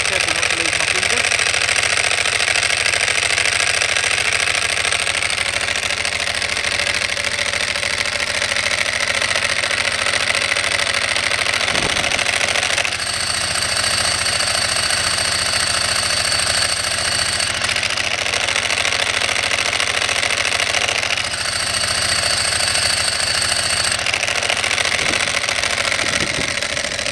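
A motorcycle with an open clutch and standard exhaust idles steadily, a loud continuous mechanical rattle and chatter over a rumbling engine throughout.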